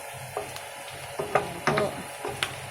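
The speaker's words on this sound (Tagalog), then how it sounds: "Haluin lang ng mabuti hanggang mag-brown yung ating bawang." Garlic frying in a pan while being stirred until brown: a low continuous sizzle with a few sharper scrapes and clinks of the utensil against the pan, close up and without speech.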